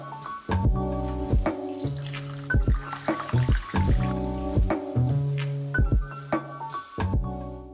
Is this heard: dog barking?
no